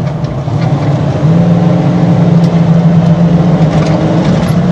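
A rebuilt engine in a 1995 Ford Bronco Eddie Bauer runs steadily, then rises at about one second to a louder, sustained drone at half throttle, holding a deep, even tone for several seconds with no talk.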